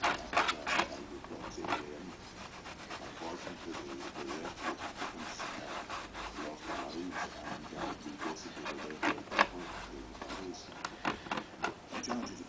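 Scraping of leftover leather bits off an antique walnut writing box during re-lining of the slope, a faint, steady rasping and rubbing with occasional sharper scratches, quiet and close.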